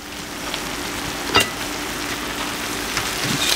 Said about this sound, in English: We're going to check on our chard, see if it's steamed down, and certainly it's well on the way.